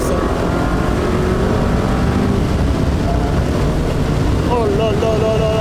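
An Opel Speedster Turbo sports car accelerates hard, its turbocharged engine a loud, continuous roar mixed with rushing wind noise, heard from inside the cabin.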